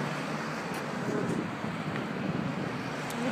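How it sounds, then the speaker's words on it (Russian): Steady, broadband wind roar buffeting the microphone in London, continuous and fairly loud throughout with no clear voices. "ветер в Лондоне конкретно сильный"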